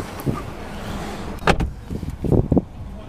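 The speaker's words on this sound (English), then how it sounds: "Does have front electric windows" Front electric windows on a Renault Clio 0.9 TCe hatchback operating inside the parked car: short motor whirrs and clunks that come close and a little loud, with quiet cabin noise between them.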